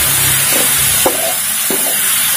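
Sambal chili paste fries in oil with a constant close sizzle while a utensil stirs it, giving a few soft scrapes and knocks against the pan.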